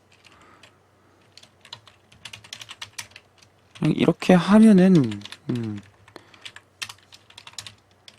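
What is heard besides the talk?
typing on a computer keyboard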